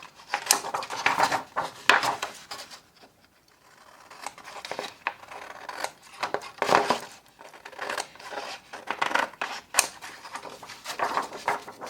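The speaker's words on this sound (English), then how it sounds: "So I'm just going to cut this out." Scissors snip through a paper take-out bag close up in bursts of crisp cutting and crinkling, with a short pause in between.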